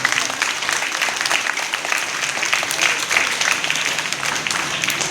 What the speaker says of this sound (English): she will hear your clap